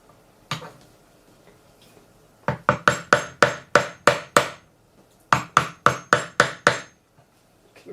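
A chisel working a triangular wooden wedge for a traditional jointer plane, sounding as crisp, close wooden knocks: one strike, then two rapid rhythmic runs of about seven taps each.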